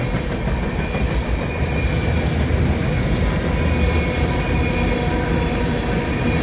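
A CN westbound freight train passing at Dorval on a sunny winter afternoon, a loud, continuous rumble and roar of railcars rolling close by with faint wheel squeal.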